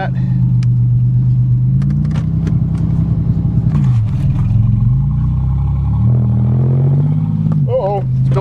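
An old Oldsmobile 88 drives along, its engine a steady, loud low rumble that rises and falls with throttle changes, close and continuous throughout with a brief higher squeal near the end.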